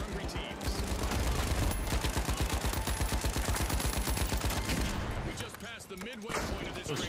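Rapid automatic gunfire and bursts in the video game The Finals, a dense rattling barrage that runs loud and nearly continuous for about five seconds before thinning into scattered shots and impacts.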